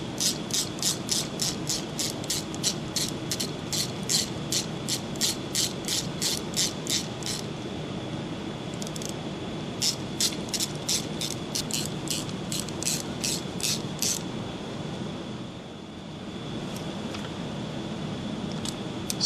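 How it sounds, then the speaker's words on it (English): A socket ratchet clicking rapidly and evenly as bolts are tightened during brake work, with one long run of clicks, a brief pause, then a second run, over a steady background hum. "with a socket and tighten them up"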